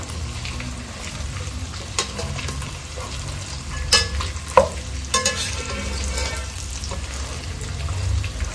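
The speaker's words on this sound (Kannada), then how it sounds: "ಮಿಕ್ಸ್ ಮಾಡ್ತಾ ಫ್ರೈ ಮಾಡಿಕೊಳ್ಬೇಕು." Pork pieces being stirred and fried in a pan without oil, releasing their own fat, with a steady close sizzle and occasional scraping knocks of the spoon.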